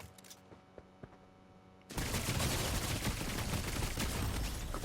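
Dense gunfire in Fortnite, with a burst of pistol shots bursting in loudly midway and continuing as a sustained, rapid volley after a quieter stretch of faint clicks and small game sounds.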